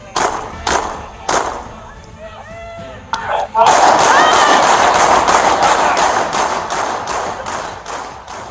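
Gunfire during a police confrontation, a run of sharp loud bangs in quick bursts, followed by sustained loud chaotic noise with people shouting.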